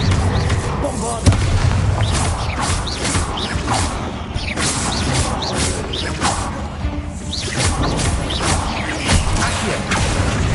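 Loud, continuous crashing and booming from the Bombarda blasting spell explosion in a Harry Potter video game, dense rumbling bursts and rattling debris filling the whole stretch without pause.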